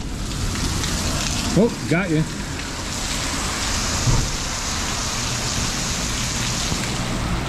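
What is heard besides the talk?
heavy rain during a storm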